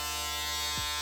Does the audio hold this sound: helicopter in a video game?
no